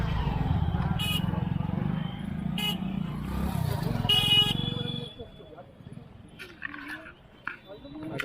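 Motorbikes and scooters honk in a crowded traffic jam on a Goa beach. Several short horn toots cut through a dense crowd and engine din, and someone speaks over the noise.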